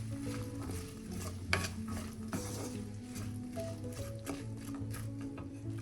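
Onions with a teaspoon of salt sautéing in a pan for a crab curry, with steady stirring and soft sizzle under occasional scrapes and clinks of a utensil against the pan.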